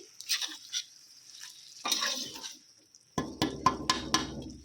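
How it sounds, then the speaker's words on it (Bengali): A spoon stirs mutton curry with tomato paste and spices in a pot: intermittent scrapes and clinks, sparse at first, then a burst of louder, closer knocks and scraping near the end, with no speech. "আর দিয়ে দেবো টমেটম পেস্ট আবারও সব কিছু মশলা সব কিছু মিশিয়ে নিচ্ছি"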